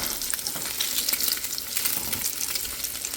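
Breakfast frying in a pan, a steady close sizzle and crackle with soft stirring scrapes, continuous and even throughout with no voices.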